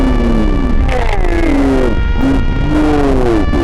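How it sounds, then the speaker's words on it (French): Loud motorcycles roar in close by during a group ride, engines revving and rising and falling in pitch in overlapping sweeps, several bikes at once with no talking. "on est les seuls clampins à moto hurlante qui arrivent pendant la minute de silence"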